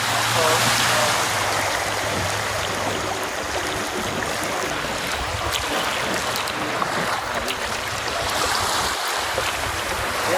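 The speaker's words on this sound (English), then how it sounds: "As you can hear, the water's surging a lot here, so mooring is a little tricky." Sea water surges and churns against rocks near Halletts Beach beside a small moored dinghy, a loud, continuous rushing wash filling the whole scene close by.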